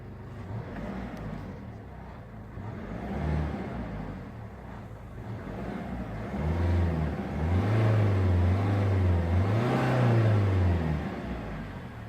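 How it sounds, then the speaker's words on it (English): A diesel engine in a 2007 Citroen C4 Picasso idles and then revs several times, the pitch rising and falling in swells, close and fairly loud with no talking. "It's a good sounding diesel engine."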